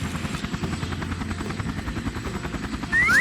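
A toy helicopter's rotor sound plays as a rapid, steady whirring chop, loud and close for a few seconds, with a brief brighter burst near the end.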